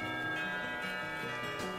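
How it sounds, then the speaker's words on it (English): Carillon bells ringing in the visual novel game Katawa Shoujo, a sustained, layered tonal chime with overlapping bell notes changing pitch, steady and moderately loud with no talk. "sound of carillon bells takes me completely by surprise as I stand up"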